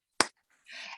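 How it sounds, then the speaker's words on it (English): A single sharp finger snap from an audience at a live singalong with a hat-wearing children's entertainer, followed by a brief burst of scattered snapping and clapping and a faint voice. "Everybody snap or clap."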